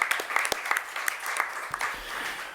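An audience at a book presentation claps in a brief, moderately loud burst of uneven individual hand claps, fading slightly toward the end.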